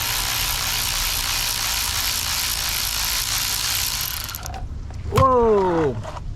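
Ratchet wrench with a 10 millimeter socket loosening the drain bolt on a motorcycle: a loud broadband whirring rasp for several seconds, then a few sharp clicking pawl strokes and a squeaking turn, close and unaccompanied by talk.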